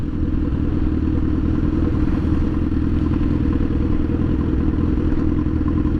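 A Honda CBR 1000RR with a broken exhaust roars steadily and loudly throughout at a sustained, heavy low rumble with rattling clatter, recorded close while riding.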